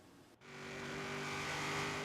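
Mitsubishi Eclipse GSX in Forza Horizon 3 pulling away on the road, a steady engine drone with harmonic whine building in pitch and volume after a brief dip, no talk over it.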